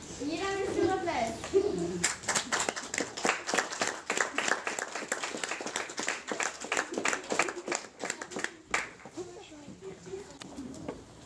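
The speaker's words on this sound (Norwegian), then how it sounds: "Gi dem en stor applaus." Applause from a crowd at a riding show during a summer riding camp, a mix of quick claps and cheering with children's voices over it, starting after a brief spoken announcement.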